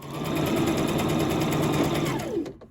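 A sewing machine runs a long basting stitch across the side seam and top edge of a jogger pocket, whirring steadily and loudly up close, then slowing to a stop.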